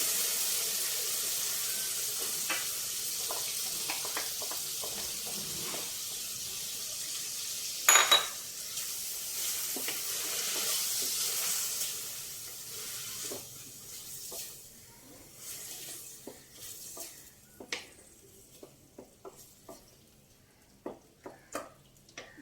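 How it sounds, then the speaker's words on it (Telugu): Marinated potato pieces tipped into a hot pan for potato masala curry, a sizzling hiss at first, then fading to scattered scraping and clinking as they are stirred, close by and without talk. "ఇప్పుడు ఈ మ్యాగ్నేషన్ చేసి పెట్టుకున్న బంగాళదుంప ఉంది కదండి, ఇది వేసేసుకుందాం."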